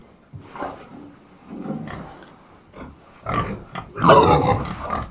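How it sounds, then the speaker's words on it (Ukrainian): Pigs kept indoors in a warm barn on a farm during a blizzard, giving a run of close grunts and snorts in uneven bursts that grow louder toward the end. "Це свинки"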